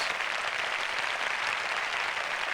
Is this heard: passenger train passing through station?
no